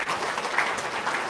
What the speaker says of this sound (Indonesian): Coba tepuk tangan dulu dong